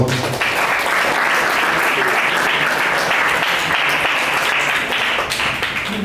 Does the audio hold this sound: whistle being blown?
no